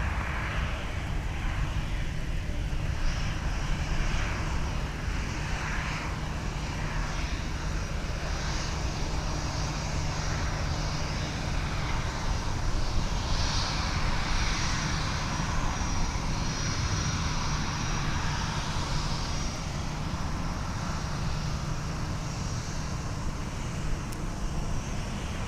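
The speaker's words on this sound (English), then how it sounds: "now in frame is Delta 2895 off to Newark Liberty International with an Airbus" Delta Airbus A319 jet departing MSP airport, a steady broadband engine roar that holds at a constant level for the whole stretch, with distant traffic-like rumble mixed in and no talk.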